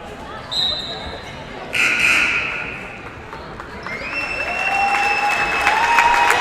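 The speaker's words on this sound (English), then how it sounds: "a standing ovation from the crowd" A crowd at a women's college basketball game gives a standing ovation, sustained applause that swells toward the end, with a commentator talking and high shoe squeaks ringing over it.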